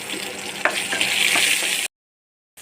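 Cumin seeds, bay leaf and green chilli spluttering in hot oil in a wok, a loud close crackling sizzle with a few sharp pops, cutting to silence before resuming briefly.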